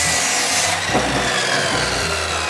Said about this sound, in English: Cut 2 inch by 4 inch by 12 feet lumber to 6 feet long.